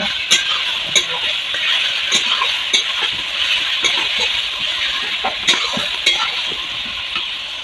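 Bay leaf and chili paste fry with chicken in a pan, giving a constant bright sizzle broken by sharp metallic clinks and scrapes of stirring, close and alone.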